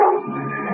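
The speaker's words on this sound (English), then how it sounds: "Oh, the dog." A dog in a CBS Radio Mystery Theater drama gives one brief, muffled bark that trails into a whimpering yip, heard alone on a band-limited old radio recording.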